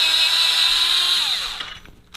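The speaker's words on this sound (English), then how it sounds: "I'm using my little cordless inch drill thingy to back it the rest of the way out" A small cordless drill whines steadily as it backs a frame bolt out of a Honda Grom motorcycle, close and loud, then winds down and stops near the end.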